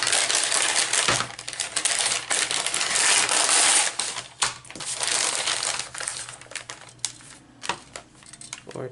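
Paper being cut and trimmed for a junk journal album, giving dry crinkling, crunching and clicking sounds up close, continuous at first and then breaking into sporadic snips and taps.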